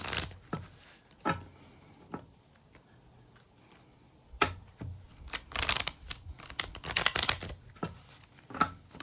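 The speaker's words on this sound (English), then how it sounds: "Let me shuffle perhaps 2 more times." Tarot cards riffled and shuffled in several separate bursts, crisp papery flutters with quiet pauses between, close up and alone.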